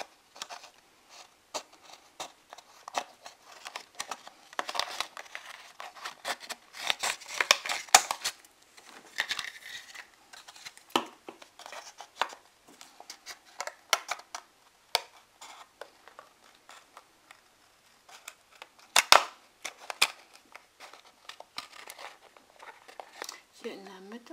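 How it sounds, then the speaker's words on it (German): Scissors snip a butterfly shape out of thin plastic foil from a bottle, making faint, irregular crisp cuts and crinkles throughout, close and soft, with brief louder snips. "Jetzt nehme ich ganz einfach eine Schere und schneide dann jetzt den Schmetterling aus dieser Folie aus."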